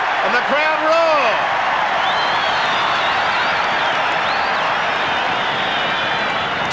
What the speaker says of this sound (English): And Funnell knocks on. And the crowd roar.